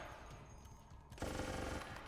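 Gunfire in Resident Evil: Operation Raccoon City, a steady dense crackle that jumps louder into a sustained burst of rapid shots partway through, with no talking.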